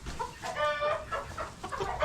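Green-legged partridge hens and broilers cluck in a coop while a young rooster calls among them, a busy, close cluster of overlapping clucks and squawks with no speech.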